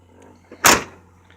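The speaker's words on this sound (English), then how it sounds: "I'm hoping he doesn't care if I open the door." The door of a Chevy Silverado pickup truck opens with a single close, sharp clunk and latch rattle. The sound fades quickly against a low background hum, with no talking.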